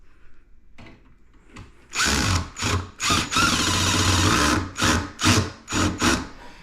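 A cordless drill drives screws into a wooden rocking chair, its motor whirring loudly and close in one long run and then a series of short bursts as the screw seats, with the clutch slipping.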